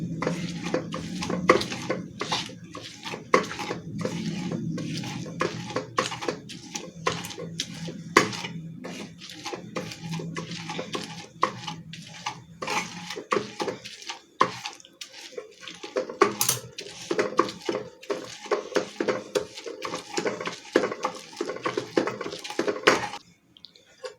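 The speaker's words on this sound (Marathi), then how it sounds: "इथे पाहू शकता पटकन मिरच्या बारीक होत आहेत" Green chillies are crushed by hand for village-style Maharashtrian chilli thecha, giving a close, steady run of scraping, knocking and clattering strokes that continues almost without pause.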